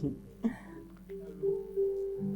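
A voice imitates a wolf, giving a drawn-out, wavering howl that rises and holds, preceded by a short vocal sound, close and moderately quiet.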